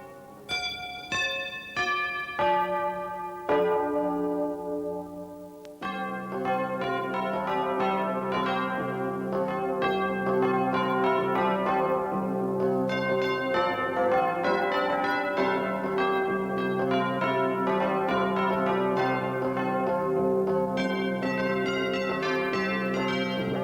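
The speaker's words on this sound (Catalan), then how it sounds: "vostè sap on sonen avui les nostres campanes" Church bells from a newly built bell tower ring at a 1990 village celebration, first a few separate strikes, then a dense, sustained peal of overlapping tones, loud and clear with no talking.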